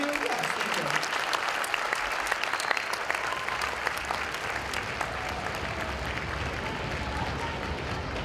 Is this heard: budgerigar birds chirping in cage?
no